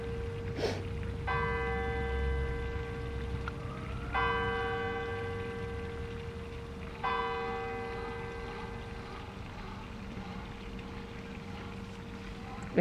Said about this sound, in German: dann warten wir die Kirchenglocke auch noch ab